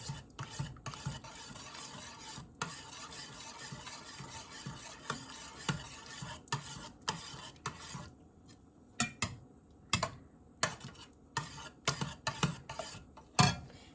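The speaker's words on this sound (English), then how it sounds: "So just stir that around real good." A spoon scrapes and stirs a thick mixture of cream-of-anything soup with garlic in a pot for Cajun dirty rice, producing repeated rasping strokes and clinks that become more spaced and distinct toward the end.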